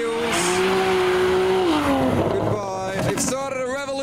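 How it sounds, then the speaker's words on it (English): A BMW M2 at a car show revs hard and spins its wheels, engine note rising and falling with tyre squeal, loud and close, mixed with crowd voices. "M2's gonna try and do some spins at the wheels"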